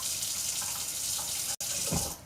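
Water runs steadily from a kitchen tap while water is measured out for cooking farro, a continuous close hiss with a brief break near the end.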